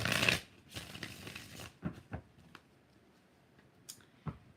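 A quiet riffle of tarot cards being shuffled, followed by a few soft taps and clicks as the deck is squared, with no talking.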